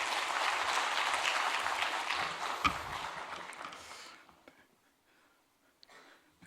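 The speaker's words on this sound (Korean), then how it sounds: "자, 우리 박수로 한번 격려하겠습니다." Congregation applause in a church during a Wednesday service as a pastor is welcomed forward: dense clapping for about four seconds, then it fades out, leaving near-silence with a few faint scattered sounds.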